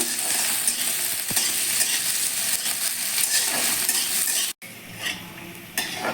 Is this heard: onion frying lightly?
yes